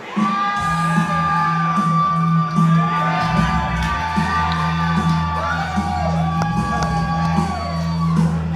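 A wrestling crowd at an ACW Proving Ground show shouts, whoops and cheers for a debuting wrestler, Dick Danger. Loud, sustained cheering continues throughout, with rising yells over a low droning background.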